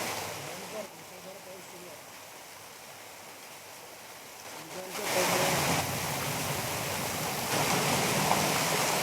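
Floodwater pouring over a bridge in Akola after torrential rain makes a steady broadband rush, quieter for the first half and then swelling louder and nearer, with no voices.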